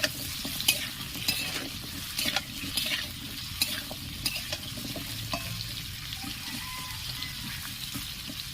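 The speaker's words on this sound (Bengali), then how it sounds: "আলুগুলো আমি হালকা করে লাল লাল করে ভেজে নেব।" Potato pieces fry in oil with a steady close sizzle, broken by repeated spatula scrapes and taps as they are turned until golden red.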